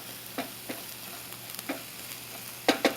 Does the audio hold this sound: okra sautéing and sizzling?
yes